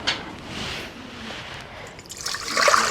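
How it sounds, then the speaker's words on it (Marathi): Water poured into a pressure cooker for boiling potatoes, a steady trickling stream that swells into a brighter, louder splash near the end. "कुकरमध्ये पाणी टाकून घेऊया आणि बटाटे उकडून घेऊ"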